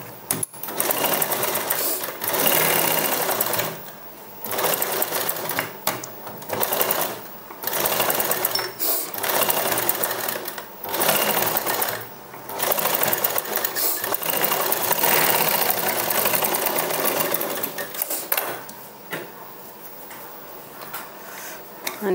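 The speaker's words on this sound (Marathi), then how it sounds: "बाही पलटी करून याच्यावर आपल्याला एक दाब शिलाई मारून घ्यायची आहे." A sewing machine stitches a puff sleeve in repeated bursts, its motor whirring loud and close, starting and stopping with short pauses between runs.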